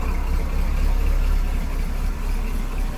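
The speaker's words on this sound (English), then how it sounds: "License plate lights, tail lights, turn signal, dual exhaust. Exhaust sounds great." A 1970 Chevrolet Camaro SS with a 350 V8 idles steadily through dual exhausts, a deep, even rumble that stays loud and unbroken throughout.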